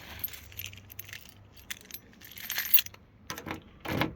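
Car keys for a Ford Cortina Mk4 Ghia jangling close by in short, irregular metallic bursts with quiet gaps between.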